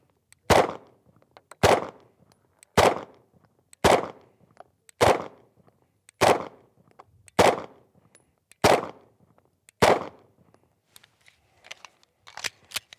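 Pistol shots at an outdoor range with B8 targets, about nine sharp loud cracks in an even, slow rhythm roughly a second apart, each with a brief ringing tail, then faint clicks and handling noise.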